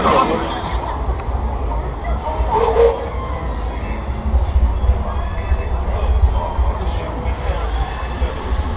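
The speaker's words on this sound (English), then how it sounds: "thanks for joining us on the Disneyland Railroad" The Disneyland Railroad train runs on its Grand Circle Tour, a steady rumble and rattle of rolling cars with faint crowd murmur mixed in.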